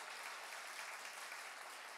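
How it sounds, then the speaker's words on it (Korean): Steady applause from a university ministry mission forum audience at a Seoul church, a dense even wash of clapping filling the room without a break and no voices over it. "박수 한번 주시고요."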